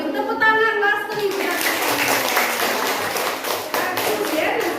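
Classroom of elementary students clapping for a classmate, a dense burst of applause following a brief spoken voice, lasting several seconds at close range.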